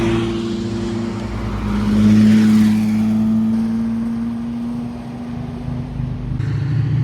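A powerful sports car engine drones steadily as it passes at Monterey Car Week, swelling louder midway and then fading, with a low rumbling tone throughout.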